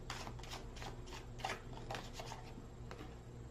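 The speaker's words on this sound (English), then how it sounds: "Off the top of the deck, one more shuffle." A tarot card deck being shuffled at close range, a run of quick papery riffles and flicks in irregular bursts, fairly quiet and with no talking.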